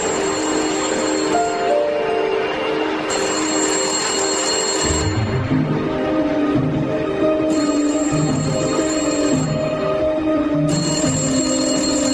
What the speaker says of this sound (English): Find the phone near the clock. It's going to ring in 30 seconds.